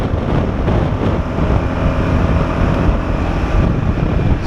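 A Vespa VV350 scooter rides on an open road, a steady, loud rush of wind buffeting and engine drone running without a break and with no talk.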